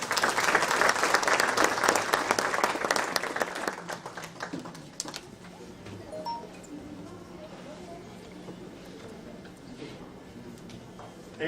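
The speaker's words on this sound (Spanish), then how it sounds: "Recibamos con un fuerte aplauso al doctor Ricardo Hinojosa" An audience at a university panel event applauds a guest speaker, dense loud clapping for about four seconds that thins out into scattered claps and quiet room murmur.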